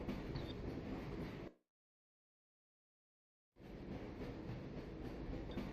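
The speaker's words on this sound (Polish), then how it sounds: "Będziemy jeździć tą kolejką i tam kilka rzeczy jest do powłączania, do powyłączania, żebyśmy mogli przejechać dalej." Rail car from Half-Life: Source rolling along its track, a steady rumbling ride with a clattering mechanical texture that cuts out completely for about two seconds midway, then resumes at the same level.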